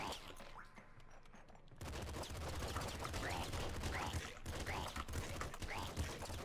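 Rapid bursts of gunfire from double revolvers in the video game Nuclear Throne, dense popping shots layered over game sounds and music, with a quieter opening before the firing takes over.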